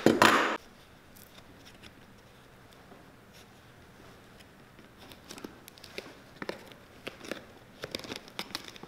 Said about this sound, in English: if I don't clip these down some, it is gonna be impossible to get this leather up over those nails